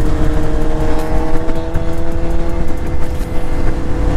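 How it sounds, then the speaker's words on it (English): On the Great Ocean Road, motorcycles on a group ride overtake with loud, steady engine drone and high revving close by. Wind rush runs underneath the whole time. "Here they go, all the fast riders overtaking."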